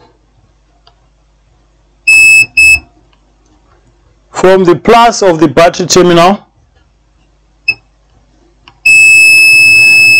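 A multimeter set to diode mode beeps in continuity while probing the battery charging circuit of a faulty Toshiba Satellite C850 laptop: a short pair of tones, then a longer steady beep, with someone talking in between.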